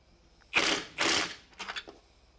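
Wrench work on the catalytic converter bolts of a G37 Coupe, a few quick close metallic ratcheting clicks in short bursts, fairly faint with no talking.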